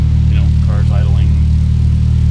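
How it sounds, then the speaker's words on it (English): Honda car engine idling steadily after startup, a constant low rumble with an even hum, close and continuous for the whole stretch. "Car's idling."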